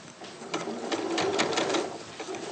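Domestic sewing machine stitching in a steady, fast mechanical whirr with rhythmic needle clatter, close and fairly loud, running alone for a couple of seconds.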